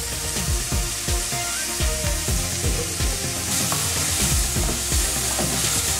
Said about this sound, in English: Then we'll stir it up, or like to fry for a bit.